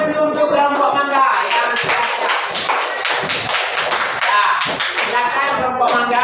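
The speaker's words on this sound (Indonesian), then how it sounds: "Tepuk tangan dulu untuk kelompok mangga." A class of students claps for a group of classmates in a school lesson, a dense, steady patter of hands lasting throughout, with voices talking over it.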